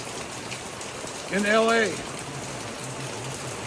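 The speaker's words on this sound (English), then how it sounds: "It's pouring rain" Pouring rain falls steadily as a broadband wash through the scene on a second straight day of downpour, with someone briefly speaking over it midway.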